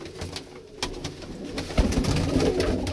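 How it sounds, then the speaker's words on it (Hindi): Pigeons coo in a bird market stall where birds are offered for sale, soft low coos mixed with scattered rustling and wing flutters nearby. "ये देखें ये चेक करें कबूतर"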